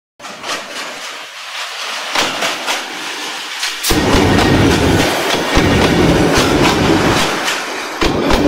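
A train crossing the old Tista railway bridge near Rangpur, loud and close, with a rising roar of wheels and rhythmic clickety-clack of passing cars over steel spans, building sharply midway and continuing steadily.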